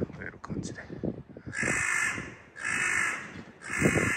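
A crow caws loudly three times in slow succession on a street near Chitose Station, Hokkaido, each harsh call lasting about a second, following a stretch of nearby talking.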